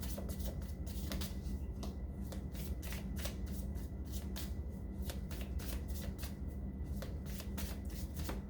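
Tarot cards shuffled in a continuous, rapid run of crisp riffling flicks, close and steady over a low background hum, with no talking.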